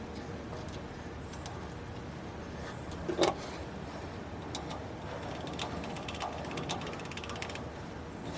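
A socket wrench ratchets in a quiet workshop, giving faint, rapid clicking pawl strokes in short bursts, with one sharper clack partway through.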